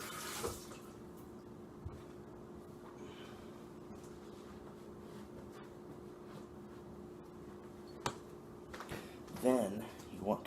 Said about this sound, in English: Then you want to wash your hands again.